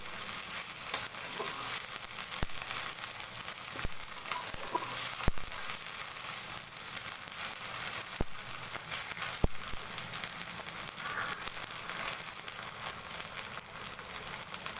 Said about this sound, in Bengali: আদা রসুনটা আমি একটু তাহলে ভিতরে বেজে নেবো যেন কাঁচা গন্ধটা চলে যায়